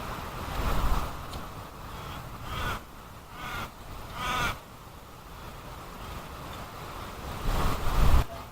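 Steady breezy wind rushes outdoors in gusts of broadband noise, with several louder buffets against the microphone and a few harsh caw-like calls cutting through.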